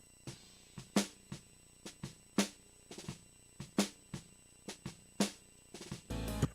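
Superior Drummer 3's snare bottom microphone picks up a string of soft ghost strokes and crisp accented hits in a steady groove, then a short noisy wash at the end.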